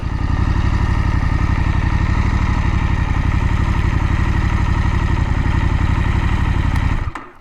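A 2024 KTM 890 SMT motorcycle engine idles steadily and loudly up close, a dense even rumble with mechanical clatter, cutting off abruptly near the end.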